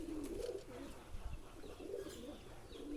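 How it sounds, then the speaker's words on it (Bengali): A female racer pigeon cooing quietly on a farm, a low, soft murmur that repeats in gentle waves beneath steady background noise. "দেখতে পাচ্ছেন রেসার কবুতরের মাদি।"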